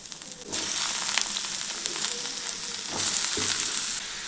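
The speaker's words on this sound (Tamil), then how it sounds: "எண்ணெய் சேர்த்துட்டு நம்ம கட் பண்ணி வச்சுருக்க சுரக்காவை சேர்த்துட்டு நம்ம வதக்கிக்கலாம்" Pieces of bottle gourd sizzle steadily in hot oil in a kadai, a close, bright frying hiss with stirring, briefly flaring louder partway through.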